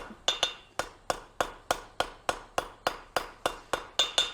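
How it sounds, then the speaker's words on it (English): Steady metallic hammer blows ring out at a quick, even rhythm, about fourteen sharp strikes on hot steel during forge welding, close and loud, with no talking. "Now, Thomas, do you feel that it's getting more solid with your hammer blows"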